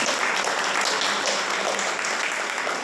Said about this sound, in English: She needs a big round of applause.